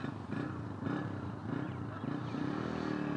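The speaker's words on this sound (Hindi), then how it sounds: "अब मैं इसको अनलॉक किया है तो आप देख सकते हैं कि बाइक स्टार्ट हो जाएगा" A Honda motorcycle fitted with an anti-theft alarm system is started by remote and settles into a steady, throbbing idle close by, its low rumble pulsing evenly for a few seconds.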